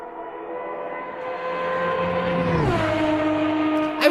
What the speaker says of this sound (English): the mighty Valkyrie AMR LMH GTP with its V12 sounds previewed earlier today